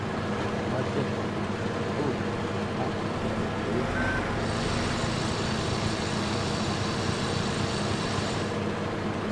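Stump grinder chewing into a tree stump in Farming Simulator 17, a continuous loud broadband grinding roar over engine drone, with a brighter high-pitched layer joining midway.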